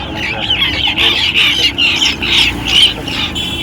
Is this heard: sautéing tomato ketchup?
no